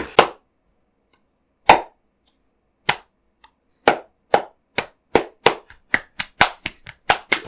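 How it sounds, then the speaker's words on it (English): Hand claps ring out loud and close with no talk, starting as a few widely spaced single claps and then speeding up into a quicker, steady clapping rhythm. "You're not clapping along?"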